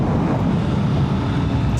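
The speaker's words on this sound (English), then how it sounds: "That right there is pretty much as windy as you ever get it." Constant low rumbling wind buffeting the microphone while riding a motorcycle at about 100 km/h (60 mph), loud and steady with no voices.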